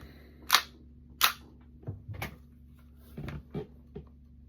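An AAP airsoft pistol being test-fired with a split trigger: two sharp, loud snapping shots about a second apart, followed by several softer mechanical clicks and clacks.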